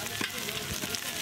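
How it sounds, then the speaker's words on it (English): Two pounds of bacon fry in a pan, a brief, dense crackling sizzle with small pops. "first thing we gotta do is cook the bacon"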